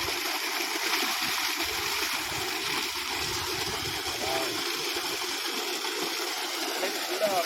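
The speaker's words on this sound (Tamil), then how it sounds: "இடத்துல தண்ணி பாருங்கள் எவ்வளோ ஃபோர்ஸாக பாருங்களேன்" Steady rushing water gushing hard, a continuous broadband roar with splashing, close and loud throughout.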